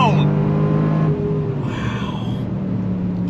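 A 2022 Range Rover Sport SVR Bespoke Edition accelerates on throttle with a loud, close engine roar that rises and then settles into a deep rumble. A person speaks over it.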